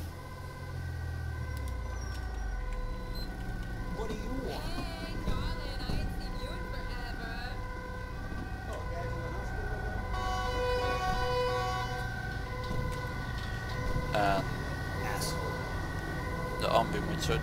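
An ambulance siren wails in the video game GTA 5, a steady repeating electronic tone layered with engine rumble, fairly loud and continuous, with someone talking over it at times.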